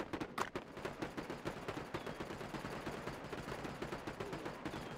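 Rapid bursts of gunfire crackle in a World War-themed real-time strategy game, a dense rhythmic stream of shots mixed with machine-gun rattle at moderate to faint volume.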